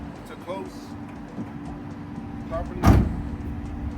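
A bookmobile's side door swings shut with one close thud against a steady idling hum from the vehicle, after a faint mechanical whir from the ramp lowering.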